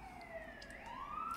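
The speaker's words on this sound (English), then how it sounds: "There's sirens coming." Faint emergency sirens wail in the distance, a thin rising and falling tone that slowly sweeps upward, heard alone against a low background hum.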